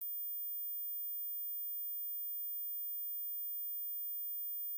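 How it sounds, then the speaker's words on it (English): A steady, continuous high-pitched electronic sine tone, thin and piercing, held unbroken at an even level from start to finish with no other sound. "If you heard this high frequency sound"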